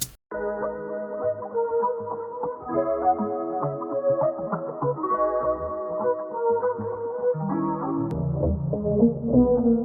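A dense, low-pitched musical loop of chopped sample fragments pitched down three semitones plays continuously, sounding deep and slightly murky, with a thicker bass swell near the end.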